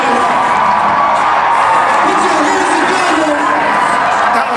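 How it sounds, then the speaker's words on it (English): Crowd erupting in cheers at Doug Jones' Alabama campaign headquarters on election night, a loud sustained roar of shouts and whoops from many people. "Just listen to this crowd as they erupt in celebration."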